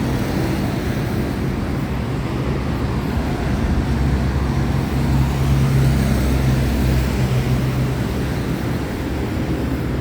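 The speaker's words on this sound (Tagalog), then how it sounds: "napakaingay ng paligid dahil sa mga ingay ng mga tumatakbong sasakyan" Steady roar of passing vehicles on a busy Manila highway at night, loud and continuous, with low engine rumble and a swell around the middle.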